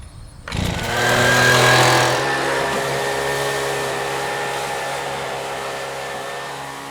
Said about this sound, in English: hit this entire area with a leaf blower